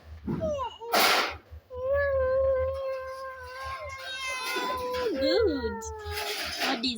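A toddler imitates a cat's meow with several rising, wavering vocal cries between bursts of adult speech and praise.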